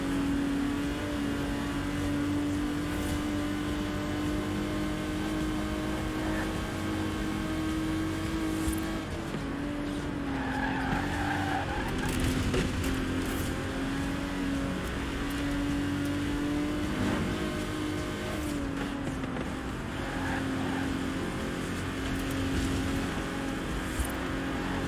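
A 1960s Aston Martin DB5 Vantage with side-draft carburettors driving in Forza Horizon 4, a continuous steady engine drone with shifts in pitch as it changes gear, no talk.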